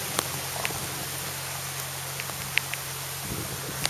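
Warm rain falls steadily in an outdoor setting, making an even, hissing wash with scattered close drips and droplet ticks, and no voices over it.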